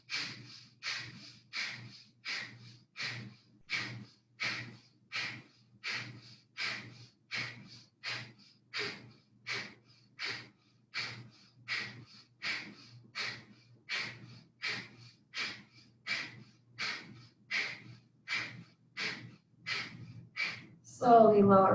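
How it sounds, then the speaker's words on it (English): Deep rhythmic breathing during a HIIT yoga session, about thirty evenly paced, close breaths repeating steadily, each a soft airy rush, ending in a louder burst. "Deep belly breaths"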